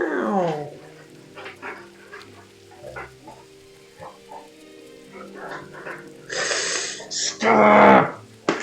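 A playful Great Dane puppy whimpers with a high, falling whine, then makes scattered yips and scuffles, with louder bursts of noise and a voice near the end.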